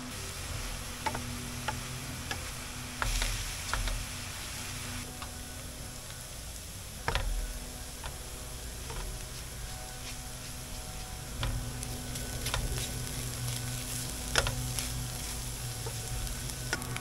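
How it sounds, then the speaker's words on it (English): Mushrooms cook down with Madeira in a pan, a soft continuous sizzle with scattered ticks and light stirring scrapes, fairly quiet and steady, and no one talking. "we're going to cook off that Madeira completely"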